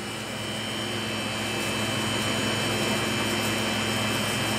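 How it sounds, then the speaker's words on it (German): A steady, loud mechanical whine and roar with a high droning tone comes from a running TransCooler 1340 N refrigerated van, presumably engine and cooling unit, close and continuous with no talk. "wenn wir jetzt den Motor wieder starten"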